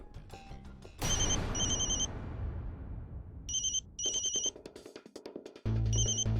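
A telephone rings in a Hindi TV serial scene, electronic ringtone bursts repeating in short clusters over a dramatic music swell and rumble, fairly loud and close.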